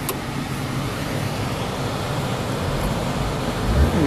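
Ford Focus engine running and revving up, a steady low rumble with broadband road-like noise that swells slightly louder near the end.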